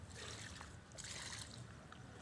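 Water trickles and splashes steadily while koro bean plants are watered with pond water outdoors, a soft continuous pour that swells at moments, with no voices.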